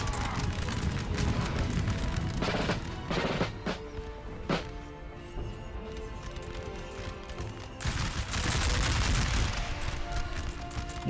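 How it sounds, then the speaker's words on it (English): Massed rifle volleys in the Napoleon: Total War video game, ragged crackling bursts of musketry that come in waves with sharp single shots between them, heard at a mid distance. "they had to fire so many rifles in one direction"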